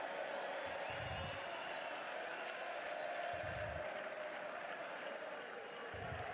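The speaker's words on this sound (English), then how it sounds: "It might not be the biggest crowd, but they're certainly getting behind this team, making plenty of noise here." A football match crowd cheers and roars steadily in the distance, a broad, fairly faint wash of noise with occasional low thumps.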